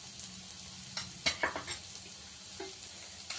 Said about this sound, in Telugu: మొత్తం కలిసేటట్టుగా మనం దీన్ని కలిపేసుకుందాం